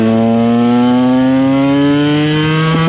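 A KTM EXC 125 two-stroke dirt bike engine runs loud and steady close by, its buzzing note sagging slightly and stumbling near the end as if about to cut out.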